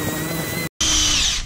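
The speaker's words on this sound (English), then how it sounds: "once it's spread out and it's not gonna sling, you can turn up the speed on the drill" A power drill with a polishing attachment on a coated car wheel whirs steadily, cuts out briefly, then restarts at a higher, louder whine, running close and continuous.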